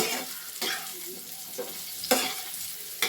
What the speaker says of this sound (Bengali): ঠিক এইভাবে নাড়িয়ে চাড়িয়ে নিয়ে